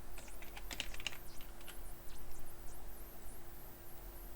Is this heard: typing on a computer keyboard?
yes